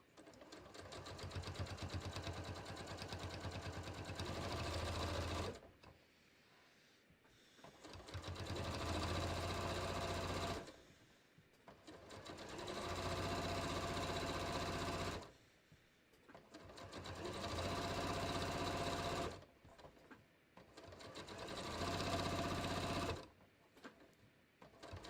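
A sewing machine stitches a shirt collar with a collar stand in repeated loud, steady bursts of rapid whirring, each lasting several seconds and separated by short quiet pauses, with no talking.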